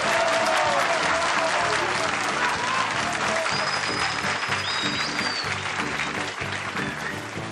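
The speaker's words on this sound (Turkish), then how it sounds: "Alkış." A large festival audience applauds loudly and continuously, a dense wash of clapping with crowd noise mixed in and a thin whistle cutting through partway, tapering slightly near the end.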